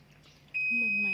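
Control panel button on a Sharp inverter 16 kg top-loading automatic washing machine gives one sustained electronic beep, close and clear, after a quiet stretch with faint speech.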